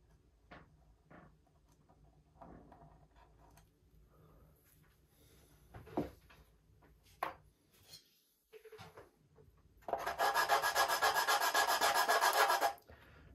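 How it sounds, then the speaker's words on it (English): Sanding wood flush on a rib of a Carl Goldberg Tiger 2 model airplane, with scattered light handling taps and scrapes, then a steady close rasping sanding stroke lasting a few seconds. "And I'm just sanding that flush to the top of the rib."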